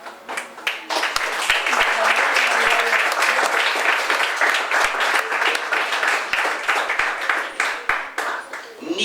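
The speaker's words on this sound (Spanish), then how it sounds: "¿Usted le da un fuerte aplauso al Señor por eso?" Congregation at a Sunday church service giving a strong round of applause, loud sustained clapping from many people with sharp individual claps standing out, mixed with voices calling out.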